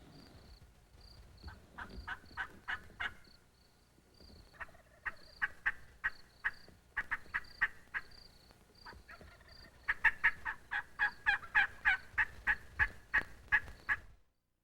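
Wild turkeys gobble in repeated rattling bursts during a spring hunt, several birds calling back and forth, growing louder and more frequent toward the end, with no talk.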